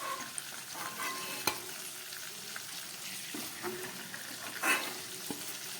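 Pointed gourd (potol) pieces fry gently in a pan for a vegetarian potol korma, giving a steady soft sizzle with occasional stirring scrapes and a couple of sharp clinks, close and alone.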